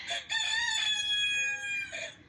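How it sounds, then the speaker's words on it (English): A rooster crows once, loud and close, in a long drawn-out call that rises and then trails off. "My rooster is telling me that I am not alone."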